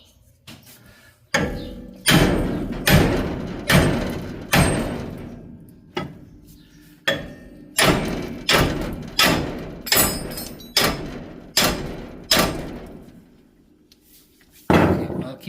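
Hammer blows strike the upper ball joint of a 1965 Chevelle during a disc brake conversion, about a dozen loud metallic bangs in uneven bursts with short pauses between them, close and sharp, each ringing briefly before the next.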